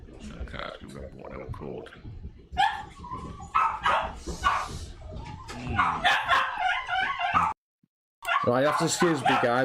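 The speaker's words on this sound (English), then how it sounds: "The dogs are going ape shit because the wife's going to work." Several household dogs bark and yip excitedly at home as someone leaves for work, repeated sharp barks rising and falling over someone talking steadily nearby, with a short silent gap near the end.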